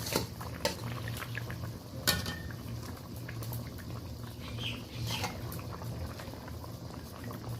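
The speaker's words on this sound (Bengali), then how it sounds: "খুন্তিতে মাছ নিয়ে তরকারিতে দিয়ে দিচ্ছি" Soft Bhola fish pieces slipped into a simmering curry with a spatula: a steady low bubbling with occasional light clinks of metal against the pot.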